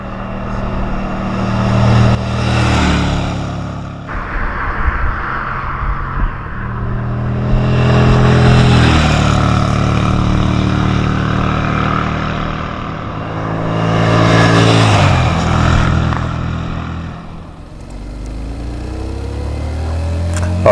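A Moto Morini 500 V-twin motorcycle passes repeatedly, its engine note swelling and fading three times as it rides by, loud and close at the peaks and tailing off between passes.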